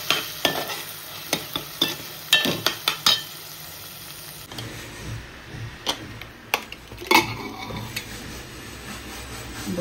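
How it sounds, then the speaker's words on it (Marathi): Chopped onions cook in a pan for mutton biryani, with repeated stirring scrapes and clicks of a spoon against the vessel over a steady low sizzle, alone without talk. "अजून 2 मिनिटं शिजवून देऊया आपण कांद्याला."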